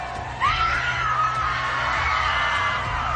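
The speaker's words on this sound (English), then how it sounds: "I want to listen to that scream again." A woman on an American Ninja Warrior obstacle course lets out a long, sustained scream. It rises sharply and holds over a loud, continuous crowd roar.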